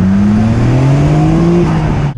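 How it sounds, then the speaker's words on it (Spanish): A Nissan Skyline GT-R R33 revs hard with its turbos spooling, a loud, close, steady engine note that rises in pitch for about two seconds before cutting off. "Suenan los turbos muy bien."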